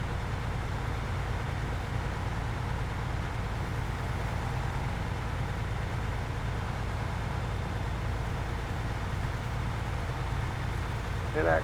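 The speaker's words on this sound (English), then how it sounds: "This truck sounds pretty tough." Steady, low rumbling engine drone from a truck pulling out of a quarry after rock crawling, a constant close hum with road noise and no talking.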